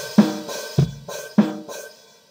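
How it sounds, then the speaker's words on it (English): A MIDI drum beat programmed in Reaper plays a few bars, with open hi-hats ringing on the upbeats between kick and snare hits, clear and alone with no talking. "If we put these open hats on the upbeats here, and we listen to it like this."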